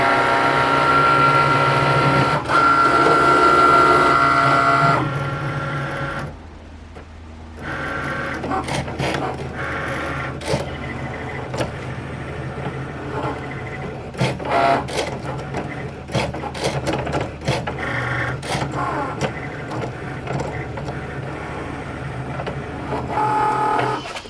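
Cricut cutting machine slicing vinyl on a loaded mat, a loud motorized whir at first, then a quieter stretch of whirring carriage movement and clicking with irregular ticks and short buzzes throughout.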